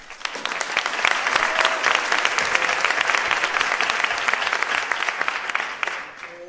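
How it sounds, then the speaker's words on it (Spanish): Sustained audience applause at a Colombian political event focused on childhood and adolescence, a dense, steady roar of clapping that holds for several seconds before tapering off at the end. "Un fuerte aplauso, por favor."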